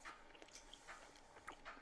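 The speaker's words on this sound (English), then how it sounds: "Excuse me while I just chew this" Someone chews an Iron Brew flavoured chew bar from Woolworths, close and faint, making a few soft wet bites and smacks spread unevenly over a couple of seconds.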